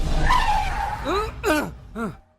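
A car skids to a stop with a sliding tire screech that fades quickly. Voices speak right after it.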